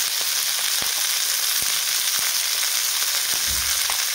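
Bell pepper sautéing in oil with turmeric and salt over a low flame for a spicy Marathi vegetable dish, a loud, steady close sizzle with occasional stirring clicks, with no talking.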